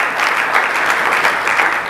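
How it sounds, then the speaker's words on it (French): Steady, dense applause from a conference audience honouring women engineers, loud and continuous throughout without a break. "Je demande à toute l'Assemblée d'applaudir ces personnes exceptionnelles"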